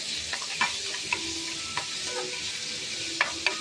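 Onions fry in hot oil with a steady, soft sizzle. A utensil scrapes and taps the pan now and then, giving a few sharp clicks over the continuous frying hiss, with no talking.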